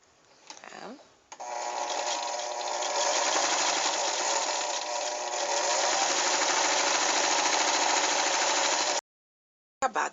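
A sewing machine stitches closed the body of a fabric rag doll: a few faint handling clicks, then a loud, steady, rapid mechanical whirring run lasting several seconds that stops abruptly, followed by brief clicks.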